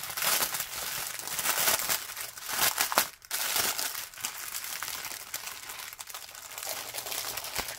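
Crinkly plastic packaging of craft supplies such as beads, glitter foam and ribbons being handled close up, a steady rustling crackle with louder crumpling bursts and no talk.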